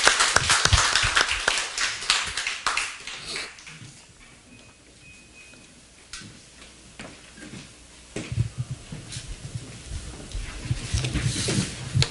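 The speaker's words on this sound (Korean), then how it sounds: "우리 하나님께 영광의 박수 올려드리겠습니다." Congregation clapping in a church during a Korean Sunday worship service, a loud burst of many hands at the start that fades to near quiet, then swells again toward the end.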